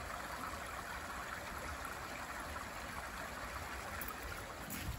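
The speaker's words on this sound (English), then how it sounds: "Water." Water flows steadily in a stream along a Connecticut hiking trail, a constant close rushing and trickling wash with no talking over it.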